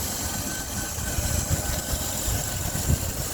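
The 3.9 engine of a Pontiac Grand Prix GTP idles with a steady, low, close-up rumble and slight uneven pulses, without speech.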